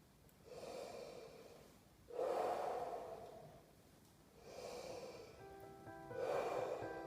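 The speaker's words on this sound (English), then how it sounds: "take that breath. And we're going to breathe 3 or 4 times" Slow, deep breaths drawn and released through a relaxed mouth, four audible breath cycles alternating in an even rhythm, close and fairly soft with no talking.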